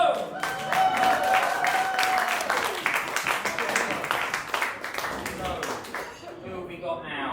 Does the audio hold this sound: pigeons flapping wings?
no